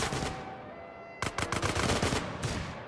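Video game gunfight in GTA San Andreas: after a sustained tone, loud bursts of rapid automatic gunfire break in, a dense run of sharp shots that continues without talk.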